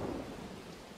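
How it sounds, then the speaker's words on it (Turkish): Deep, rumbling thunder from a lightning strike in the prehistoric survival game Dawn of Man, a loud, sustained low roll with a rain-like hiss and no speech. "Kameranın tam olduğu yere yıldırım çakmaca böyle sesimizle gider."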